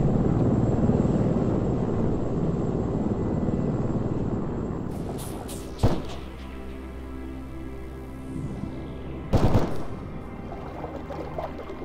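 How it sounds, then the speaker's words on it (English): A low, steady helicopter engine drone hangs overhead in the video game ArmA III, muffled and continuous, with a couple of sharp clattering bursts cutting through partway along. "We can hear the sound of a helicopter above us, with the noise of its engine slightly muffled"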